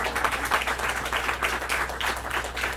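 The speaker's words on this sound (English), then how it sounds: "Let's give him a round of applause here." A crowd applauds steadily, a dense patter of many hands clapping at moderate volume without a break.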